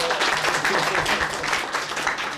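Audience applause at a startup panel event, a dense steady patter of clapping from a crowd lasting a couple of seconds at even loudness.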